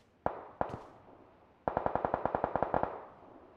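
PUBG Mobile gunfire: two sharp single shots, then a rapid automatic burst of about a dozen evenly spaced cracks, loud and close with a short echoing tail, no talking.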